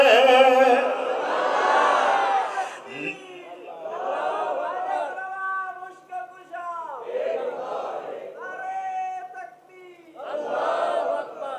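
A large crowd at a religious gathering chants slogans in unison, rhythmic call-and-response phrases rising and falling, with a leader's voice on a loudspeaker between the chants.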